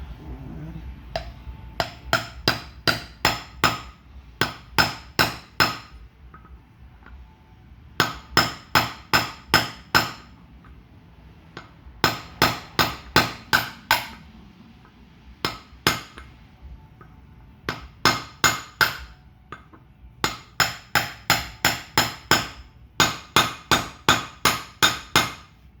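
A seal is hammered into a Tornado 250cc wheel hub with sharp metallic blows in quick bursts of four to six strikes, repeated about ten times with short pauses, loud and close, with no talking.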